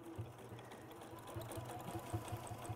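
A sewing machine stitching a seam with a longer stitch length, its quiet needle chatter running in short uneven bursts close by, with no talk.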